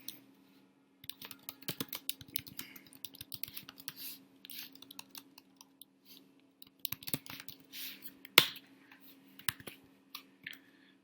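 Fingers typing a command on a computer keyboard: quiet, rapid key clicks in uneven runs with brief gaps and one sharper keystroke, close up in a still room with no voices.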